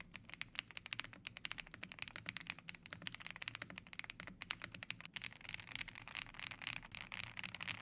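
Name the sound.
typing on gasket-mount keyboard with avocado switches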